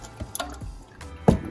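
Motor oil from a 2020 Hyundai Palisade's drain, fitted with a Fumoto valve, falls in a few sparse, soft drips and small plops up close, ending with one heavier splat.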